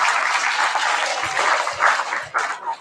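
Applause from a school audience at a grades 5–8 poetry slam, sustained clapping that fills the clip at a steady, fairly loud level with no voices.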